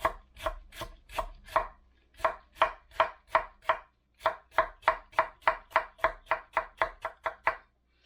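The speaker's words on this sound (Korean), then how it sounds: "그냥 채 썰어서 넣을 거예요." A knife julienning vegetables for lettuce-wrap kimchi chops on a cutting board in crisp, close, rapid strokes, arranged in runs that break off with short pauses.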